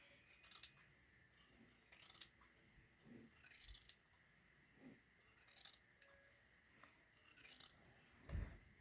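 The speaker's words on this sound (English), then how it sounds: "Here is the collar. I'm going to go ahead and trim it." Scissors make a series of crisp snipping cuts through a fabric collar during sewing, several separate clusters of sharp closing sounds spread across the span with quiet handling between them.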